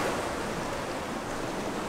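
Steady roar of sea waves washing onto the shore, a continuous broad rush with wind noise and no pauses.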